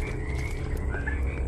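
A frog croaks in The Land of Pain video game jungle, a steady low throaty croaking continuing throughout against a faint ambient background.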